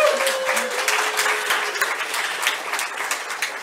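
Audience at an education conference's opening session applauds a recently completed PhD, a steady, dense round of clapping from a nearby crowd lasting throughout, with a faint voice briefly audible early on.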